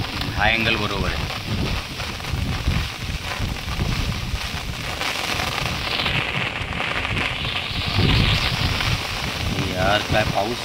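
Heavy rain falls outdoors as a steady, broad hiss of drops, with bursts of louder rumble from gusts and people talking intermittently over it.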